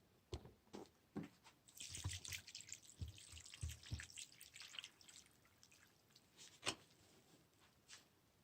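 Water drips and trickles from a potted Selaginella plant being watered, a scattered series of faint close splashes and taps in a quiet room.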